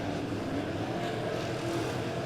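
Dirt track modified race cars at Springfield Raceway roaring down the front stretch, a dense continuous engine drone heard at moderate distance with no voices.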